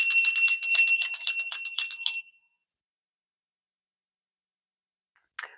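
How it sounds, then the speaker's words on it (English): A small bell rings before a tarot reading: about two seconds of quick, bright, repeated metallic strikes that then cut off, leaving silence broken by one faint click near the end. "We'll ring the bell and then we will go ahead and get started."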